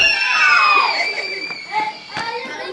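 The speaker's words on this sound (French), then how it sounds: "Les cris des enfants résonnent dans le hameau de Verdevant depuis plus d'un siècle." Children shouting and calling out at a small single-class village school in the hamlet of Verdevant, loud high-pitched cries and shrieks that overlap for a few seconds.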